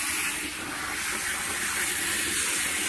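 A steady, bright hiss of water spraying from a garden hose onto black walnuts in a bucket, constant and close, with no pauses.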